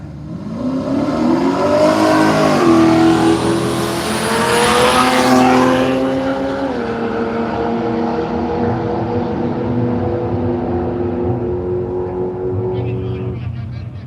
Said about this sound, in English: Jason Mears again in the Commodore wagon. Once more up against Anthony Bloomfield in the big Pontiac GTO.